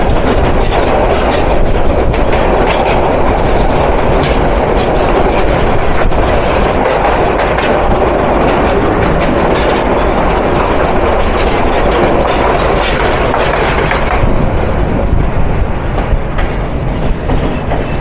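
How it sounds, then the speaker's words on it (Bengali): The Upaban Express, a metre-gauge train running from Dhaka to Sylhet, passes close by with a loud, continuous rumble and rhythmic wheel clatter on the rails. No one talks. "এ তো দেখি ঢাকা থেকে সিলেট উপবন এক্সপ্রেস।"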